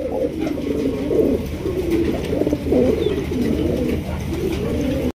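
Pigeons on a pigeon farm coo steadily and close by, their low throaty calls overlapping and rolling on without pause.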